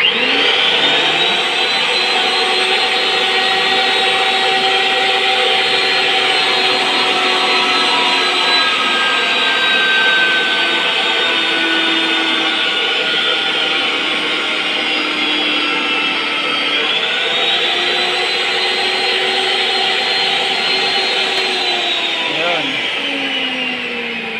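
Electric pipe threader motor cutting threads on 1-inch pipe, a loud steady whine and hum running continuously near the listener, with the pitch dipping slightly partway through as the load changes.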